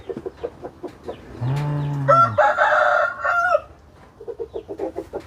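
Chickens on a small farm cluck in short rhythmic bursts while a rooster nearby lets out one long, loud crow in the middle, and the clucking resumes afterward.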